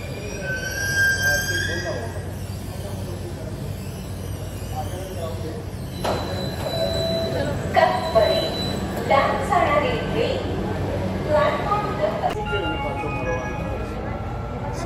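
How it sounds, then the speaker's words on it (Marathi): An eight-car metro train arrives at a station platform behind glass screens, with a rising rumble, squealing wheels and a few door-like clunks. People talk throughout. "8 डब्यांची ट्रेन आहे ही आणि आता ही समोर या काचच्या इकडे येईल."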